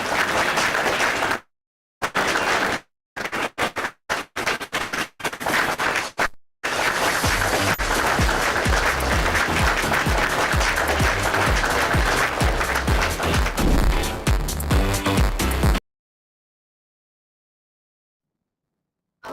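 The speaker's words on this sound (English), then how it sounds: "let's give applause for the amazing session" An audience at a conference session applauds in a sustained, loud wash of clapping, preceded by choppy, broken bursts of sound.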